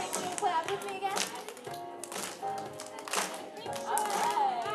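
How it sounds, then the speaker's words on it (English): Children in an exercise-and-movement session clap along to music, with quick, rhythmic hand claps over a steady musical backing and a voice present throughout. "now we're going to clap on this next part. Can you clap with me again?"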